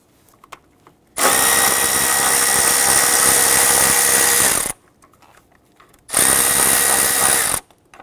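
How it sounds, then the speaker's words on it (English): Power tool whirring to loosen and remove 10 mm bolts on a 2005-2021 Nissan Frontier 4.0L V6, two loud sustained bursts of several seconds and about one and a half seconds, separated by a quiet gap. "I want to go ahead and loosen and remove these."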